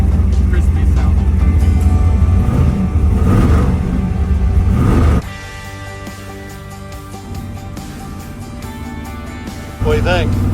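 A 1955 car with a new billet carburetor idles with a deep, loud rumble that eases lower partway through, then surges back in a short rev near the end, close up.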